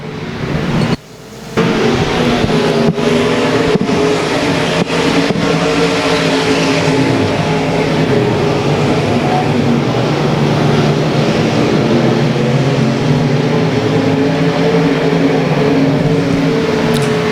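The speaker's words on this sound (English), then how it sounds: "Battle behind them there for 7th will be Tupper and Underwood." Race cars roar steadily around the dirt oval at Boothill Speedway, a loud continuous pack of engines with a brief dip near the start and a few sharp clicks, no voices over them.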